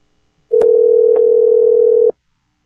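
A telephone dial tone sounds while a call is placed: one loud, steady tone lasting about a second and a half, with faint clicks at its start and end, then silence.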